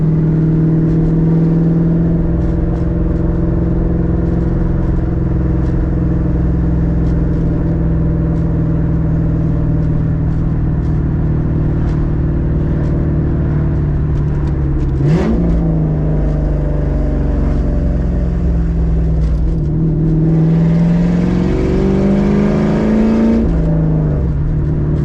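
A Ford Mustang engine drones steadily while driving, a loud low hum inside the car with small shifts in pitch and brief rises as the revs change, and no talking.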